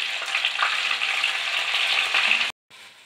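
Mixed corn kernels fry in hot oil in a pan, giving a steady, close crackling sizzle that cuts off abruptly near the end.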